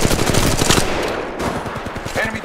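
Rapid automatic gunfire in Apex Legends Mobile, loud and close, a dense string of shots with a brief dip midway before the firing resumes.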